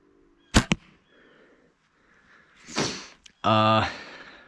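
An arrow is released from a bow during an outdoor archery session after light rain: a sharp snap and thud, then a brief whoosh and a louder buzzing, humming impact near the end.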